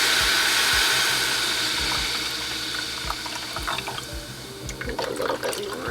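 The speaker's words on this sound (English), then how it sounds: "now I'm gonna go in with water. I kind of eyeball this, so I have some room temperature water" Room temperature water pours into a cooking pot in a home kitchen, a loud steady gush at first that thins into splashy, bubbling trickles and drips as the stream slows.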